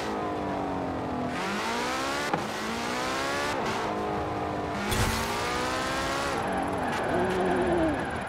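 A 2019 Porsche Carrera S engine in Forza Horizon 4, revving hard through repeated rising gear pulls with brief shift breaks, loud and continuous.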